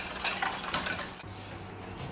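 Egg yolks and cream are whisked together in a bowl, with a few quick metallic clinks against the bowl at first, then a softer, quieter stretch.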